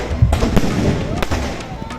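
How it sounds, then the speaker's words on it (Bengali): Fireworks burst at an evening entertainment show at a resort during a Holi celebration, several loud close cracks and booms in quick irregular succession, with people talking underneath. "তার মধ্যে অন্যতম ছিল এই ফায়ার ওয়ার্কস।"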